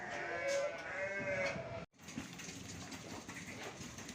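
Sheep bleating at an eco-friendly sheep farm, with a drawn-out wavering bleat close by before a sudden cut to a busier stretch of faint farm ambience with fainter animal calls.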